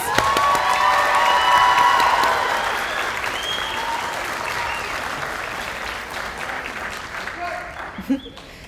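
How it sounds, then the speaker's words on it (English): Family and friends applaud graduates at a 2023 virtual high school graduation ceremony, loud sustained clapping with some cheering that swells early then gradually fades over several seconds. "give a round of applause for our graduates"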